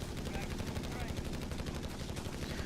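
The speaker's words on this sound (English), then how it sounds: "HMG team and a buttload of rounds dropping in." Heavy machine gun fire from an HMG team in the Company of Heroes 3 real-time strategy game: dense continuous rattling bursts with booming low rumble throughout, loud and close, with a faint voice underneath.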